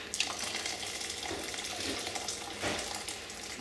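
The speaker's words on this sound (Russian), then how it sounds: "И добавляем еще жидкость." Liquid poured into a pot of French onion soup, a steady splashing, gurgling pour heard close and alone.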